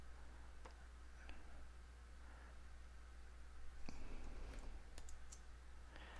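Computer mouse clicks during a software installation: a few faint, sharp, isolated clicks spaced irregularly over a low steady electrical hum.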